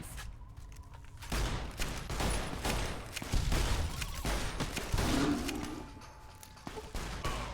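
Assault rifle fire in Fallout New Vegas, sustained bursts of rapid shots with dense crackling impacts and some echo, going on throughout at moderate loudness.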